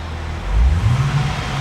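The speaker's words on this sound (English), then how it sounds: "I'm going to rev the engine now." A black 2010 Cadillac CTS-V sedan rests at idle, then its engine revs once in a deep, rising low-pitched swell before settling back to a steady rumble.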